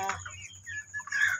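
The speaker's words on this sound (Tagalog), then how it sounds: "Yan po yung aming mga manok ngayon. Malalaki na sila." Chickens cluck and squawk close by in quick, uneven calls, with a few higher-pitched notes at the end.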